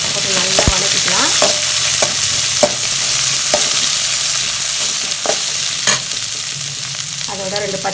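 Chopped onion and spices sauté in a pan for idli kurma, giving a loud, continuous sizzle broken by sharp scrapes and taps of a spoon stirring against the pan.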